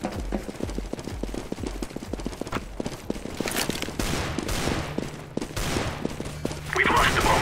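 Decoy grenades in a tactical shooter game imitate gunfire, producing rapid sharp bursts of shots in irregular clusters amid game sounds, with players talking over them.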